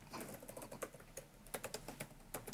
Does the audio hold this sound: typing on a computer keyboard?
yes